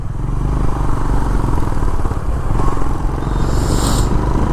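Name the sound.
scooter and cars passing on the road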